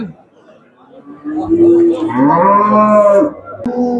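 An ox lows at a busy livestock market in Shahrisabz, Uzbekistan, one long drawn-out moo rising over a nearby voice and yard noise.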